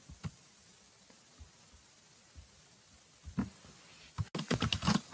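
Typing on a computer keyboard, with a few isolated key presses early on, then a quick burst of rapid clattering keystrokes near the end, close and fairly soft.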